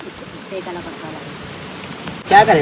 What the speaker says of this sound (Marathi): सगळा इथे पाऊस पडतोय.